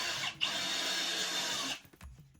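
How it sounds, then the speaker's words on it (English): A power drill drives screws into wood boards in one sustained high whine that cuts off abruptly, followed by a few soft knocks and clicks of handling, close and alone. "I just screwed them in about halfway so they go into the wood and keep it from moving around"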